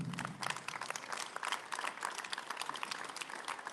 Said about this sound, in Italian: un applauso a Luca